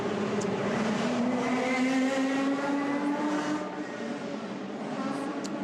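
Lamborghini Super Trofeo race car with a V12 engine running on the Misano circuit, a loud continuous engine roar with a steady rising pitch that eases slightly toward the end, as if passing at a distance.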